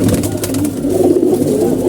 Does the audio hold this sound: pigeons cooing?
yes